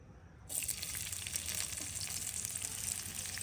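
Onions hit hot oil in a wok and burst into a steady, bright sizzle that keeps going without a break, close by and with no talking over it.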